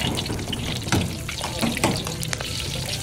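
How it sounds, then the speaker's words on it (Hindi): Half-done chicken drumsticks deep frying in hot oil in a buffet kitchen, a steady, loud broadband sizzle with a few brief louder bursts, no voices. "ये गर्मा गर्म ड्रम स्टिक्स जो कि हाफ डन हुई होती हैं, उनको फिर हम जब ज़रा डीप फ्राई कर लेते हैं"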